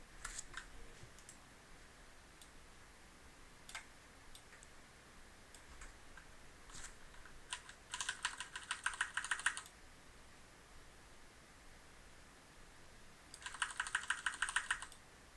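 Computer keyboard keys pressed while editing photos in Capture One, scattered single clicks then two quick bursts of rapid, close typing over a quiet room, with no voices.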